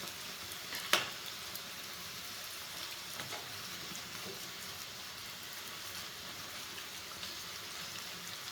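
Cauliflower florets for gobi manchurian frying in hot oil, a steady bubbling sizzle throughout with one sharp spatter or tap near the start, no voices.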